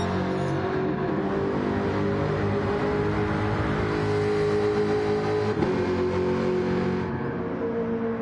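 Race car engines drone loudly and continuously during a Gran Turismo GTE race at a misty Suzuka, with Jaguar and Lamborghini cars running close together, their pitch holding steady then dipping briefly as they shift.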